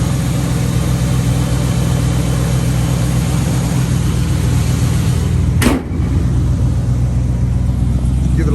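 A 1971 Chevrolet Monte Carlo idles with a steady, loud, low engine rumble that holds even throughout, broken only by a brief dip near the end.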